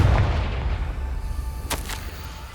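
A Confringo fire spell explodes in Hogwarts Legacy, a single sharp blast rising out of a low rumbling game soundscape, followed by a second, softer burst a moment later.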